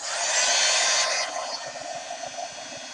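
A heat tool blows steadily while drying metallic gold paint, a loud, close airy hiss that eases slightly in level partway through and keeps running to the end without speech.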